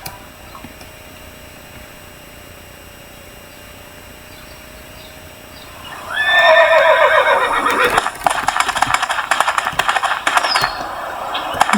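A quiet hum, then a white horse in the video game Alexandra Ledermann 4 gives a loud, high whinny, followed by quick, clattering hoofbeats that continue to the end.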